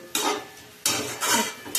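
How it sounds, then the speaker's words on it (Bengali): Vegetable curry being stirred with roasted spice mix in a pan, giving two or three close scraping, rustling strokes of a utensil against the pan with short pauses between them, and no voices. "ভাজা মশলা দিয়ে শুধু একটু নাড়াচাড়া করে"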